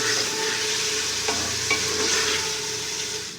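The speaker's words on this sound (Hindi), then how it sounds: "कीमे को भी इसका कलर चेंज होने तक पकाएंगे।" Minced qeema frying and sizzling in a pan, a steady broadband hiss with a few soft scraping stirs, close and continuous with no talking.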